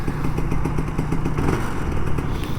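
A Kawasaki Ninja RR 150 two-stroke motorcycle warms up after a month unused, its engine idling close by in a rapid, uneven, popping chatter with a steady low throb.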